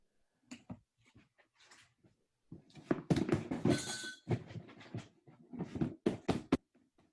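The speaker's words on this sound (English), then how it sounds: "pounding on a door" Someone pounding on a door with a series of irregular thumps and knocks, fairly faint, with a louder cluster of heavy blows midway and quieter thuds toward the end.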